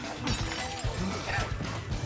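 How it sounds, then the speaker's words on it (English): Glass thrown and shattering in an animated fight scene from Arcane, a sharp crash amid loud action sound effects and music, with a reacting voice talking over it. "The glass throw, love it."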